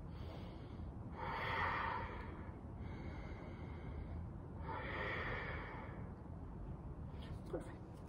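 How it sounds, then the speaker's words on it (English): Two slow, deep breaths during a tabletop-position yoga stretch, each a soft, airy swell of inhale and exhale spaced a few seconds apart, close to the microphone with no talking. "3 deep inhales and exhales here."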